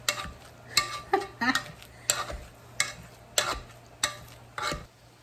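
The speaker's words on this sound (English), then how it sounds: "So we're going to do a quick mash on the potatoes." Cooked potatoes being mashed with a spoon, a series of about nine irregular knocking scrapes against the pot, fairly close and clear.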